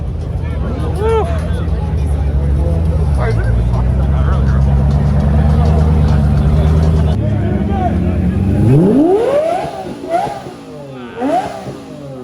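A Koenigsegg supercar's engine roars loudly and revs hard as it accelerates past at close range. The pitch sweeps upward as it passes, then the sound fades, with people talking and cheering nearby.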